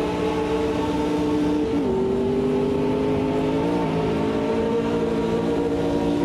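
A race car engine in the Automobilista 2 racing sim alpha mod drones at steady revs, its pitch climbing with small dips at each gear change, continuous and close throughout.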